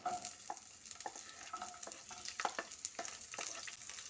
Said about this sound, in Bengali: এবার এর মধ্যে দিয়ে দিচ্ছি কুচি রাখা পেঁয়াজ